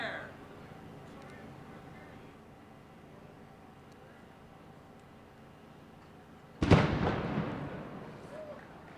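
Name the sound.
cannon firing a ceremonial shot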